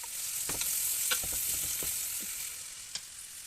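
Sliced onions fry in hot oil in a pan with a cinnamon stick, bay leaf and star anise for tomato rice, giving a steady close sizzle with scattered stirring scrapes and clicks. No voices.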